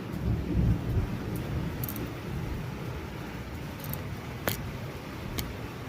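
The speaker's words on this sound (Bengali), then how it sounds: "বাইরে বৃষ্টি পড়ছে, মেঘ ডাকছে, বিদ্যুৎ চমকাচ্ছে" Rumbling thunder from the year's first storm rolls low under steady rain falling outside, loudest early on, with a few sharp crackles and drips cutting through later.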